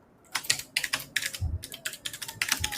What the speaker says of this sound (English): Dang, you typing fast, man.